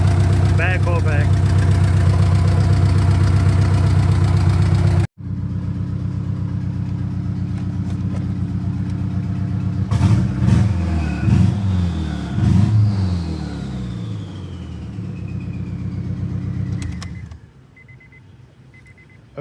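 A turbocharged Honda Accord F23 engine with a misfire from a bad coil pack, idling loud and close with an uneven rumble, then a few revs before it shuts off; a voice speaks over it.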